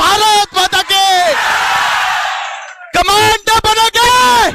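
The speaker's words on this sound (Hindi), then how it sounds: "एक बार जोरदार तालियों के साथ बोलो भारत माता के" A crowd at a rally in Bihar bursts into loud shouting and cheering with clapping, alternating with strong, drawn-out shouted chant calls that rise and fall in pitch.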